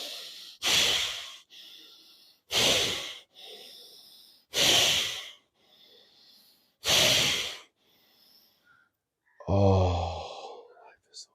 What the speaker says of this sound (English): Take a little mental pause real quick, guys. Breathe. Feel free to breathe with me.